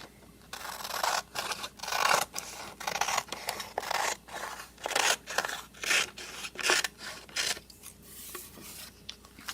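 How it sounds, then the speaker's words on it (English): Scissors cut along folded paper in a quick series of crisp, close snipping strokes, each a short rasping burst with brief pauses between, about a dozen cuts with no talking. "We're going to cut along this because we don't need this part."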